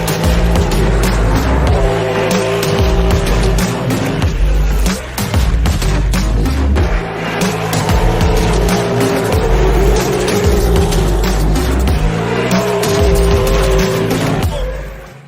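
A BMW E36 fitted with a 2JZ-GTE engine tuned to roughly 1200 horsepower roars loudly and continuously at close range while launching, with tire squeal and skidding.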